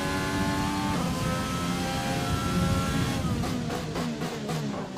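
An F1 car engine in the F1 2020 video game screams through a qualifying lap at Australia, holding a steady high drone, then downshifting in rapid stepped bursts as the car brakes late for a corner.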